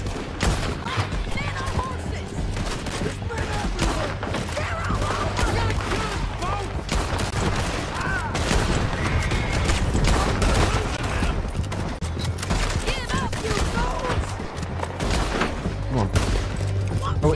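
Dense gunfire in Red Dead Redemption 2, rapid overlapping shots and bursts crackling continuously at close range, loud and sustained across the whole stretch.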